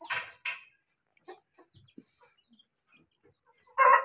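Desi hens and a red rooster kept on a home rooftop give a few short, close clucks at the start, then scattered soft calls and a loud burst of clucking at the end, with quiet gaps between.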